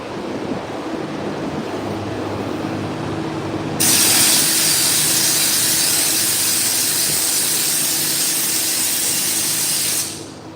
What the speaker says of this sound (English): When you got these crevices like this, you need to spray this way, you need to spray the other way